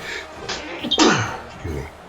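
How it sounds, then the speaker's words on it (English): A single sharp, breathy sneeze bursts out close to the mic, with a short intake beforehand and a softer exhale trailing after. "Excuse me for the sneeze."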